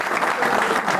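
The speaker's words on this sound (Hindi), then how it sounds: "जोरदार तालियों के साथ" A crowd at a political party rally in Jammu gives loud, dense applause to welcome Pushpinder Gupta, the clapping sustained and close.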